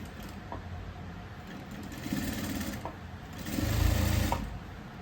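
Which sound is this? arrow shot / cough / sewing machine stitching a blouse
sewing machine stitching a blouse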